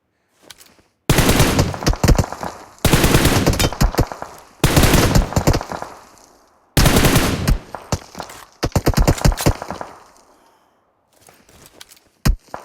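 Gunfire in the PUBG Mobile video game, with several loud close bursts of rapid automatic fire separated by short gaps and ending in a few scattered shots, with no talk.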